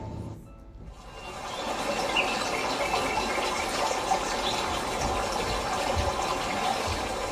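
Water from a muddy village lake gives a steady, close rushing and gushing wash that swells in after a brief quiet moment and then runs on evenly, with no talk.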